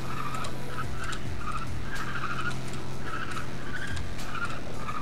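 Tires squeal repeatedly while a Vauxhall Monaro VXR corners flat out in Need for Speed World, short skidding screeches over a steady engine drone, loud and close, with no talking.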